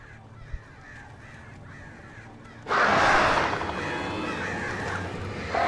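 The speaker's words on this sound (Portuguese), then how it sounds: "Malditos corvos, velho." Crows in Alan Wake Remastered break into a loud, sudden burst of harsh cawing after a quieter ambient stretch, the calls crowding together and then staying dense and close.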